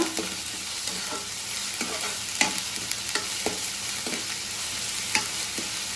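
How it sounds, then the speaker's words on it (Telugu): Ginger paste frying in a pan for a goat meat dish, a steady close sizzle with repeated scraping stirs of a spoon at an irregular pace, no voices. "అల్లం పేస్ట్ అయితే ఇట్లా బాగా వేగిపోవాలండి"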